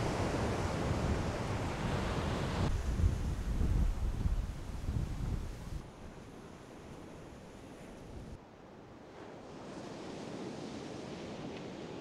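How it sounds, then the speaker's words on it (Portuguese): Cold wind blowing outdoors in a coastal neighbourhood, a steady broad rush of noise buffeting the microphone, stronger at first and then easing to a lower, even hiss, with no voices. "tá um vento gelado"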